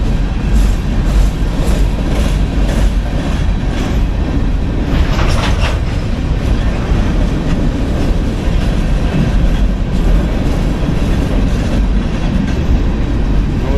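A Union Pacific coal train rumbles past at close range, a loud, continuous roll of freight cars with steady rattling and clanking throughout, the slack running in and out.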